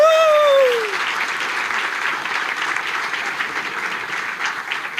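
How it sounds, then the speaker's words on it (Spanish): Loud, dense applause from an audience welcoming a speaker at a talk on malware in Latin America, with a brief cheer or whoop at the start, then steady clapping that carries through to the end. "vamos a darle la bienvenida con un fuerte aplauso"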